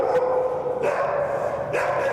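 An Akita dog barks three times at a steady interval, with short, sharp barks over a constant tonal background and no talking.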